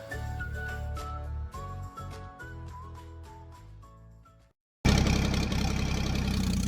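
A John Deere 350B bulldozer engine idles with a loud, steady, rumbling roar that cuts in abruptly after a brief silence and runs to the end, following an earlier stretch of tonal sound.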